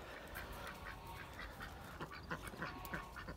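A pair of Saxony ducks quacks repeatedly in quick, uneven bursts, close by and fairly quiet, with no talk over them.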